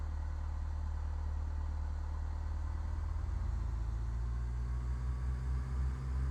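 Light aircraft engine at full power in Flight Simulator X, a steady low rumbling drone that builds slightly and holds throughout, with no voices.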